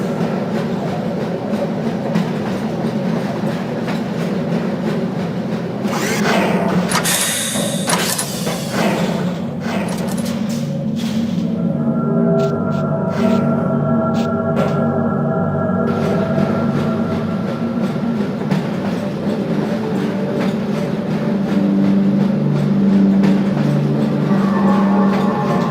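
Half-Life: Source tram ride in the Black Mesa transit system: a steady rumble of rail cars with clickety-clack and mechanical clanks, a burst of louder screeching and rattling midway, continuous and fairly close throughout.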